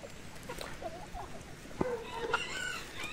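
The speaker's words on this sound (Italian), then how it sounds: "qua c'è il tacchino ragazzi" A turkey and chickens in a farm coop on a foggy day, with soft clucks and a few faint gobble-like calls scattered over a quiet, distant background.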